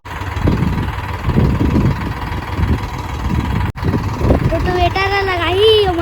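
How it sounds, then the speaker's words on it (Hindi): A farm tractor fitted with a rotavator runs nearby, its engine a loud, steady low rumble throughout, with people talking over it toward the end. "रोटोवेटर लगाई और मैं ट्रैक्टर चलाना"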